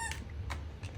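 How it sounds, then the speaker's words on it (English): A dog chews on a squeaky toy, giving three short, high-pitched squeaks spaced unevenly over a second, fairly close, with no talk. "my dog's squeaking a toy."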